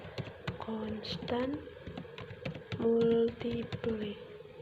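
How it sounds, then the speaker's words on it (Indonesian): Computer keyboard keys are tapped in quick irregular bursts up close while a person speaks over the typing throughout. "kita ketik constant multiple"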